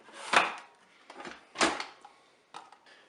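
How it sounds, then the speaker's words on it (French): The lid of a Cookeo multicooker being opened after cooking a mushroom soup, a series of clacks and plastic clunks, two louder knocks followed by lighter rattles, close by with no talking. "Je vais ouvrir le couvercle."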